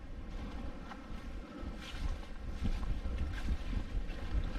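Steady wind gusting across a small tropical beach near Suva, Fiji, a broad continuous rush with swelling gusts and some microphone buffeting, no voices.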